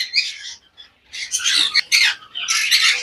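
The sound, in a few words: conure parrots squawking in cage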